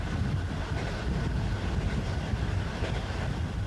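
A passenger train rolls through the night, a steady loud rumble of wheels and carriage noise that stays even throughout with no voices.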